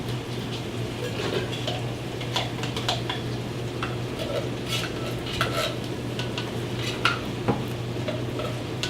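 Beans tipped and stirred into a pot of firemen's chili, giving irregular scraping and clinking of a utensil against the pot over a steady low hum and soft background sizzle.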